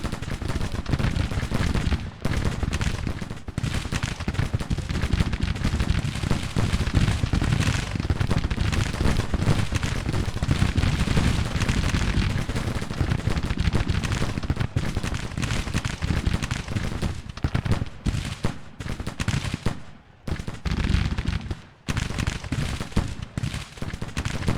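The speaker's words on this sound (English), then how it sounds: "stop firing at them before you waste your ammo" Dense, sustained musket volleys crackle and pop almost nonstop from a Civil War battle in the strategy game Grand Tactician: The Civil War, loud and layered with only brief lulls.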